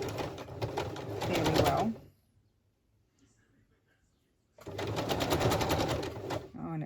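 A sewing machine stitches a big zigzag across fabric in two close, rapid rattling bursts separated by a brief silent pause, with a voice speaking quietly.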